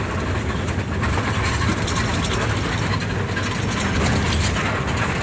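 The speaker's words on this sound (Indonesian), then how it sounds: "Kedengaran coolernya, ngaungan coolernya teman-teman ya." A steady mechanical hum and rattle of the air conditioner inside a bus, constant and fairly loud, with a dense whirring drone throughout.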